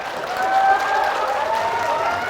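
Audience applause at a live debate on Islam and atheism, steady and fairly loud clapping from a crowd for a couple of seconds, with no voices.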